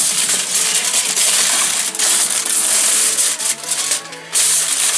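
A parcel wrapped in foil is handled and crinkled close up. The loud, continuous rustling and crackling fills the whole stretch, with a few brief dips where the hands pause.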